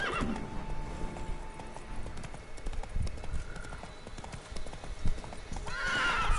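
A horse in The Witcher 3 gallops with steady clip-clopping hooves, then gives a clear neigh near the end.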